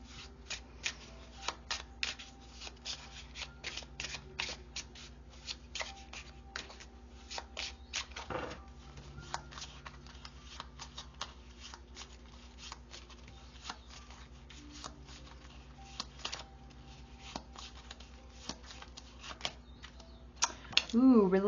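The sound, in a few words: shuffling tarot cards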